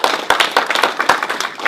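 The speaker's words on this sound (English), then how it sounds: "how about a round of applause for Miles?" Audience clapping at a retirement ceremony, close and fairly loud. Individual sharp claps stand out in an irregular patter as people applaud, with no talk over it.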